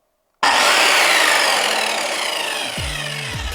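An Einhell TC CS 1250 budget circular saw bursts on abruptly with a hard jolt, then whirs at full speed, loud and close, with the blade sound slowly easing and a low knock near the end.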